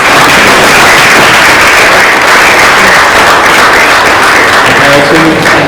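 Loud, sustained round of audience applause for a guest speaker at a talk held at IIT Mumbai, a thick continuous wash of clapping filling the whole stretch with no voices.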